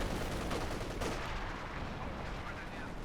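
Dense, continuous gunfire and artillery from a Company of Heroes 2 battle, loud and rattling, with crackling bursts layered over a heavy low rumble throughout.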